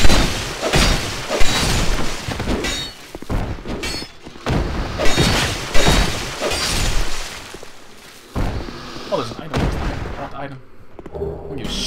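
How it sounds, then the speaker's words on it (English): Barrels exploding in Dark Souls 2 set off repeated loud booms and crashing impacts throughout, close and dense, while someone talks over them. "Do not want to fight these things amidst exploding fucking barrels."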